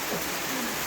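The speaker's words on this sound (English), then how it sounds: "The hail has changed to rain." Rain falls steadily on a cabin after hail, a dense, even hiss of drops in a short burst with no voices.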